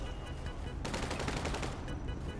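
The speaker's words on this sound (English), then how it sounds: "He's going to shoot the guy in the face." Rapid video game gunfire during a bank breach bursts in suddenly after a quiet moment, then keeps going as a dense, loud, sustained volley of overlapping shots.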